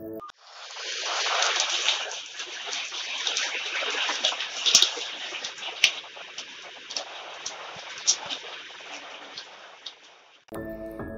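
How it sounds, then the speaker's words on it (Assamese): Sudden rain falling outside near a footpath stall roofed with a faded blue plastic sheet: a steady, dense hiss of rainfall with scattered louder pattering drops, continuous for about ten seconds before stopping abruptly. "বৰষুণ নামিল হঠাৎ"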